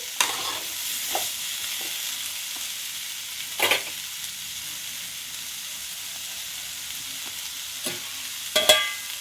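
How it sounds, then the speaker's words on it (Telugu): Carrot and beans fry with onions cooks in a pan, giving a steady low sizzle, broken by a few brief scraping stirs of a spoon and some clinks of cookware. "ఇప్పుడు ఇలా కలిపేసి సిమ్లో పెట్టేసి మూత పెట్టండి."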